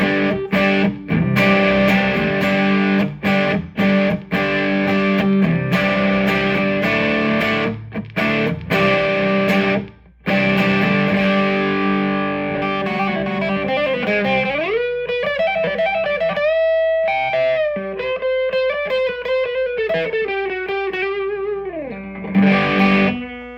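A 1996 Gibson ES-175 hollow-body electric guitar with P-90 pickups played through heavy amp distortion, thick driven chords strummed loosely at first, then sustained single-note bends and riffs ringing out alone, loud and close.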